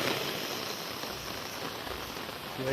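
Heavy rain pouring down in a village, a steady broadband hiss of drops on surfaces with no voices, even and continuous throughout.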